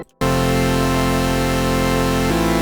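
A raw default saw-wave patch from the Serum software synth plays a sustained, bright and harsh buzzing tone, shifting pitch near the end before cutting off, with no talking.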